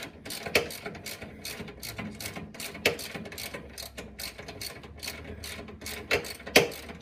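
A hand ratchet snugs down bolts during a caster modification on a Polaris Slingshot, giving a close, uneven series of sharp mechanical clicks and ticks with a few louder snaps, and no talking.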